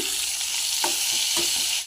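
Chopped chillies hit hot oil with cumin, onion and vegetables for a soybean chilli bhaji, giving a loud, steady close-up sizzle with a few soft stirring clicks over about two seconds.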